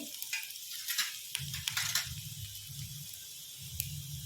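Chopped onion sautéing in a pan while a dosa filling is prepared, giving a soft, steady sizzle with faint scraping and low rumbling stirs, fairly quiet and heard alone.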